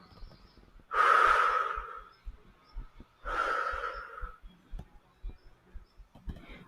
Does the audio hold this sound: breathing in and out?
yes